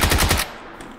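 Rapid burst of automatic gunfire in PUBG during a night-mode match, several loud close shots in quick succession that cut off abruptly, leaving a faint tail and one softer distant pop.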